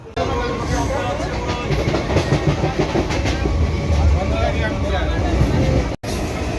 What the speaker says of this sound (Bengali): আমরা লোকাল ট্রেন ধরেছি আবার